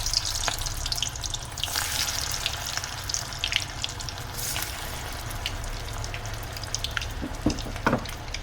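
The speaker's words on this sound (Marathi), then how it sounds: "छान फ्राय करून घ्यायचे आहेत वडे." Methi sweetcorn vadas fry in hot oil, giving a continuous crackling sizzle with bursts of bubbling and small pops, close and fairly loud, with no talking.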